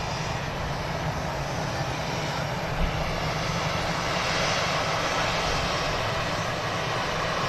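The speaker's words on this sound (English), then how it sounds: "EasyJet passing through to Jersey." An EasyJet Airbus A319 airliner passes at an airport, its engines a steady, loud broadband roar holding throughout with no speech.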